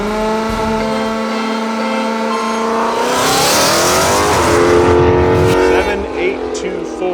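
A red drag race car nicknamed the red rocket, fitted with a bump box transmission, launches and accelerates hard, its engine note climbing steadily and loud from idle burble to a screaming roar, with a voice talking over it.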